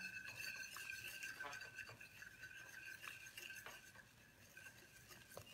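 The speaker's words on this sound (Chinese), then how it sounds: "边倒边搅拌" Flour gets stirred into a bowl of sugar water for honey dough twists while it is poured in, with faint, close scraping and light clinks of a utensil against the bowl recurring every second or so, quiet and without talking.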